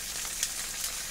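Fish frying in hot oil with browned garlic and ginger, a steady close sizzle with faint crackles and no voices.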